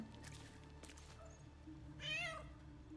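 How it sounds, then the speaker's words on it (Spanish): A cat meows in the fantasy role-playing game Baldur's Gate 3, one clear drawn-out meow near the end over a quiet, steady background hum of game ambience, with no talk. "El gato no sabe nada."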